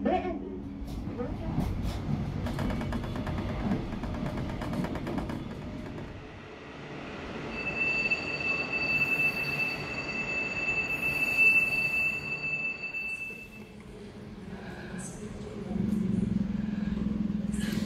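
An LRT Jabodebek Bekasi Line train running on its rails, with a steady rumble of wheels and a long high-pitched squeal of wheels on track partway through, heard from inside the car.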